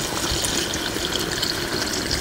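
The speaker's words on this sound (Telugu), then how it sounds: "ఇప్పుడు 1/2 లీటర్ నీళ్ళు పోసేసుకుందాం." Half a litre of water pours steadily and loudly into a pot up close, a continuous gushing splash with no voices.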